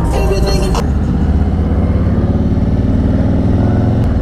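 A Harley-Davidson Road King rumbles along on a ride, its low engine drone steady and loud with wind buffeting throughout and a short burst of higher noise at the start.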